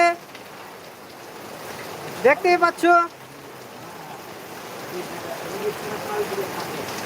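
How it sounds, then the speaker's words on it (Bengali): Heavy rain pours down in Bhaluka, a dense, unbroken hiss, with someone speaking briefly in the middle. "আর সরাসরি দেখাচ্ছি দেখো কত জোরে বৃষ্টিটা পড়ছে"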